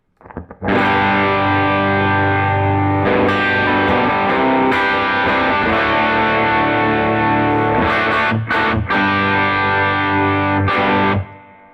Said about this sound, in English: when I'm on the bridge pickup in its hottest position, this is what the guitar sounds like